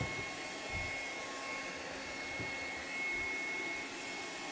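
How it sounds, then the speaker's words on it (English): A steady, loud whooshing drone of a hair dryer blowing continuously to dry a coat of paint, with a few soft knocks beneath it. "If you can hear the hairdryer"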